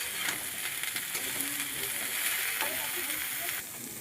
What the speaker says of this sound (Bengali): তো বন্ধুরা দেখো, আমার ফুলকপিটা ভাজা হয়ে গেছে।